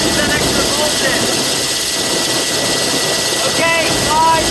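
A Bell 429 twin-engine helicopter idles before shutdown, giving a steady, close turbine roar with a high whine throughout and a voice talking briefly over it.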